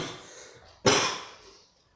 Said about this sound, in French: Je tousse même avant de tirer.